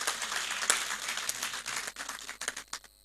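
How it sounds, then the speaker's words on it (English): Audience applause at the official launch of the All Star Festival in Tamale, a dense crowd clapping that runs steadily and then thins into scattered claps toward the end, with no talking. "It's an appropriate time to give him a round of applause."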